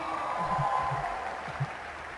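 Audience applause at a stand-up comedy festival stage in Indonesia, a steady wash of clapping sustained throughout, fairly even and moderately loud with low rumbling room noise.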